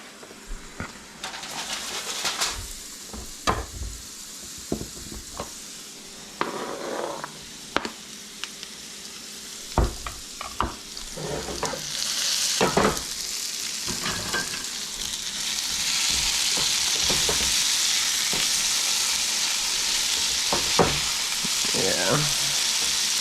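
Onions frying in a pan for a breakfast burrito, a close steady sizzle that builds and thickens into a continuous hiss, broken early on by sharp clicks and knocks of a utensil against the pan.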